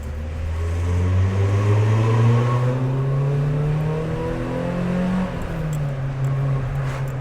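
A four-cylinder car engine revs hard and steadily climbs in pitch, loud and close, then eases slightly near the end; no talking is heard.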